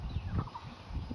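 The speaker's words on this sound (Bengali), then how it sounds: "দেখো দেখো হাঁসগুলা কত সুন্দর" Ducks in a garden give a short, close burst of nasal quacking calls over a light background hiss.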